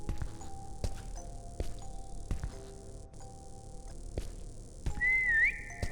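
A game character in the lidar horror survival game The Voidness gives a short rising whistle near the end, clear over a low droning ambience punctuated by soft ticking clicks.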